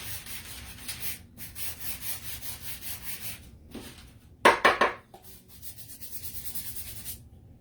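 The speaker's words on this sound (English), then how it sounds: "I just like the way that the paint looks better when it's been sanded a little bit too." Painted wooden wall decor is sanded by hand in steady back-and-forth rubbing strokes, close up, with short pauses and a brief harder scuffing burst partway through.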